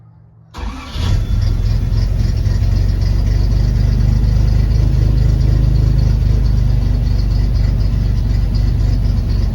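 A Lancia Flaminia fitted with a new Wosp starter cranks for a brief moment, then catches and settles into a loud, steady idle, heard up close and alone for several seconds.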